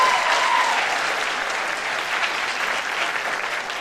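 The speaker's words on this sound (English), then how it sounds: "Let's give her another round of applause." An audience at the Miss Bermuda 2014 beauty pageant applauds, a loud, dense, even wash of clapping from a large crowd that holds steady the whole time.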